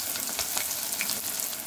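Onions and green chilies fry in hot oil with a close, constant hissing sizzle and small bursts of popping, heard alone.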